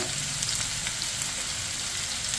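Sliced onions and split green chillies fry in hot oil, giving a steady, dense, even sizzle close to the pan with no pauses and no voice.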